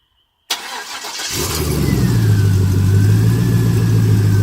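A 1974 GMC truck with a 4.8 engine, just repaired with new crank and cam sensors, starts abruptly, then settles into a loud, steady idle with a low rumble, close by and without talk.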